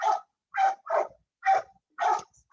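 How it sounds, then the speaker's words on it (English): A neighbor's dog barking outdoors, five sharp, fairly loud barks in an irregular rhythm with brief silences between, heard alone. "That's actually my neighbor's dog. That's making so much noise on the outside"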